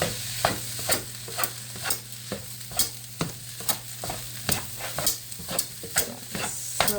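Chinese-style food frying in a pan with sesame oil is stirred with a utensil, giving a soft steady sizzle broken by regular scraping clacks about every half second, close and fairly quiet with no talking.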